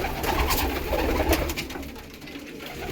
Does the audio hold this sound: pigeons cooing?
yes